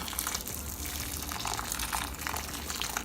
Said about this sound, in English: add hot water to my dry fish